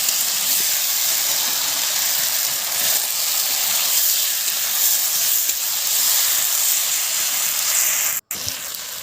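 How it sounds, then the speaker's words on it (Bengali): Fried potato and pointed gourd are sautéed with spices in a pan for a fish curry, a steady loud hiss and sizzle running evenly throughout, close up, with a brief dropout near the end and no talking. "আলু পটল ভেজে রাখা দিয়ে মশলার সঙ্গে ভালো করে কষিয়ে নেব।"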